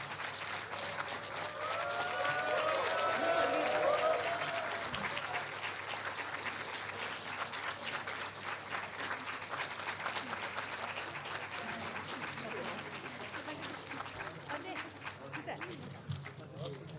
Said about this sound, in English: I request to give them a huge round of applause